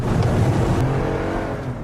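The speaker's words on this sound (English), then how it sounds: "an editing error that makes it look like the car's engine is revving" Car engine revving in a news report, loud close roar that eases slightly toward the end, no voices.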